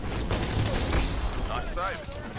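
Rapid gunfire in the online shooter Titanfall, Attrition mode on the Runoff map, comes as a dense, busy burst of shots and mechanical clatter with voice-like sounds mixed in.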